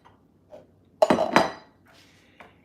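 A metal canning scoop knocks and scrapes against kitchen dishes and pans while making homemade vegetable broth, with a couple of faint taps, then a loud clattering burst around the middle and a few lighter clinks after.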